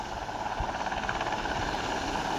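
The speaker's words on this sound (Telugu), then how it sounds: "ఆ హెలికాప్టర్ అప్పటి నుంచి అక్కడే ఉంది" A helicopter hovers over the sea, its rotor throbbing in a continuous, fairly loud pulsing drone with no voices over it.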